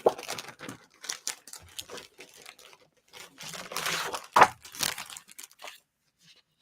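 Scrapbooking paper pack of patterned sheets being handled, crinkling and rustling in irregular bursts close by, with one sharper crunch partway through and quiet gaps between.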